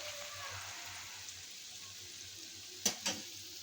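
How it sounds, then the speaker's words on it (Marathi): Faint, steady bubbling hiss of water boiling in a pot for gulab jamun syrup, broken near the end by two quick metallic clinks. "ह्या पाण्याला उकळी आलेली आहे."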